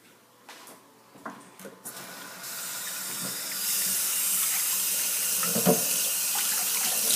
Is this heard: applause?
no